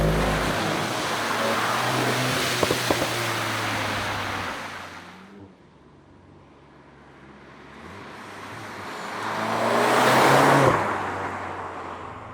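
A 2022 Volkswagen Golf 8 R Variant drives loudly with a steady engine roar, then the sound dips and quiets before swelling again into a strong engine surge as the car accelerates away from a racetrack setting.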